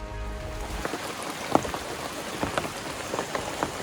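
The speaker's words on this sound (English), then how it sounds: "This whole time, the rain keeps coming down." Steady rain pours down in a rainforest, a dense hiss with scattered louder drops tapping on nearby surfaces and no voices.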